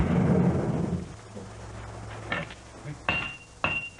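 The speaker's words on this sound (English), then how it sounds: "Hammering gradually draws the metals out into a single long blade." A swordsmith hammers steel into a Japanese sword blade: after a low rumble, a few sharp, ringing metallic strikes land at uneven intervals, close and loud.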